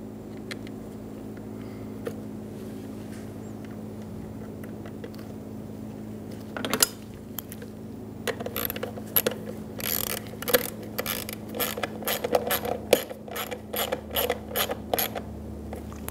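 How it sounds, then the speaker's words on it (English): Screws are driven into the lid of a 2000-2007 Ford Focus fuel pump, heard as close ratcheting clicks and creaks in quick bursts over a faint steady hum, growing busier in the second half. "Install the screws around the top."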